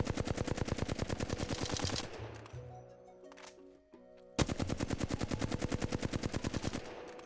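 Rapid automatic gunfire from a Flatline rifle shot at a wall in the video game Apex Legends, two long sustained bursts of loud, evenly spaced shots separated by a short pause.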